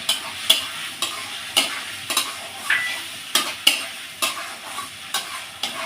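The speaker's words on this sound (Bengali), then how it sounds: "এবার আমি ভেজে রাখা আলুগুলো দিয়ে দেব।" Fried potatoes are stirred into a sizzling spice masala, with a spoon scraping the pan in a steady rhythm about twice a second over a constant close frying hiss, and no voices.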